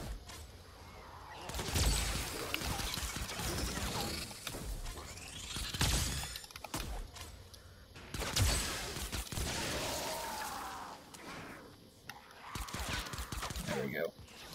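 Pistol fire in Fortnite cracks out in a few sharp separate shots spaced seconds apart among game noise and talk, moderately loud against a quieter busy background.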